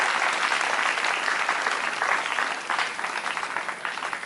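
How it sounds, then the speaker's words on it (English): A seated audience applauds steadily for Wayne Diswat, head of the Bulawayo local organizing committee, at the opening ceremony of the Zimbabwe Senior National Swimming Championships at City Pool, with the dense clapping slowly thinning toward the end. "Let's clap hands for Wayne."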